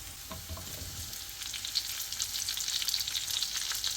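Pork pieces going into a pan already holding chilli flakes and hot fat, giving a steady, close sizzle and crackle of frying that grows busier after the first second, with no talking.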